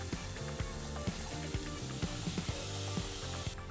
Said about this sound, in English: Heat up a small amount of olive oil, then add the chopped onions and garlic.